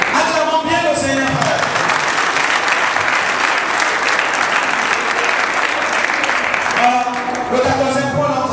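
A church congregation at a mission and consecration service in Chad breaks into loud, sustained applause that washes over everything, with voices and singing audible at the start and end.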